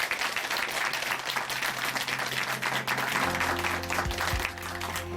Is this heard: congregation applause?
yes